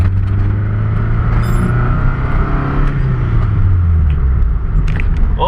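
A Ford Festiva engine with a B6 swap idles at a stoplight around 1000 RPM, a loud, close low rumble that shifts and settles slightly in pitch, with some outside traffic noise mixed in.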